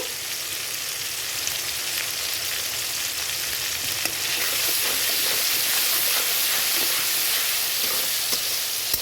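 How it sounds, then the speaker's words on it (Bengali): Spices with turmeric, salt and tomato frying in mustard oil for a boal fish curry, a steady close sizzle and hiss throughout that grows slightly louder midway, with faint stirring ticks. "এই তেলে মশলা কষাবার সময় যদি হলুদ নুন টমেটো এগুলো দেওয়া হয়"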